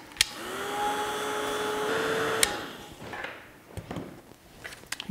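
A craft heat tool warms a stamped rose, giving a steady blowing whir for a couple of seconds before it clicks off, followed by light handling clatter and a few knocks, with no talking.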